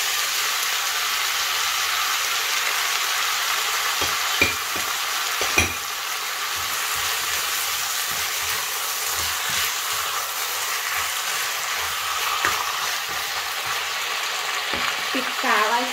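Vegetables and sauce stir-fry in a hot pan for a sweet-and-sour dish, a steady loud sizzle throughout with occasional clanks and scrapes of a utensil stirring.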